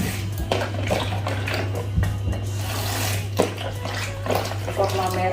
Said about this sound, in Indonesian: kurma merah kita cuci juga